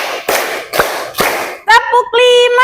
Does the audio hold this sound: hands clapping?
yes